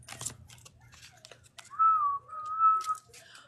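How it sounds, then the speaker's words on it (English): A person whistles a short, clear two-part tune over a quiet room with faint clicks and rustles before it. "why did I just whistle"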